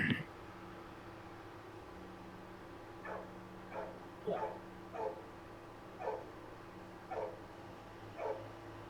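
Several dogs, including a pit bull lab mix and a blackmouth cur, bark in a series of short, evenly spaced woofs at a moderate distance, heard over a steady background hum.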